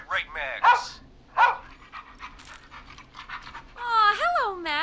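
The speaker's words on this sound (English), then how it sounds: "Well, he certainly sounds like a good boy. Max is my emotional support dog." In the video game Killer Frequency, a rescue dog pants and whimpers close up, with short breathy bursts and rising whines between stretches of talk.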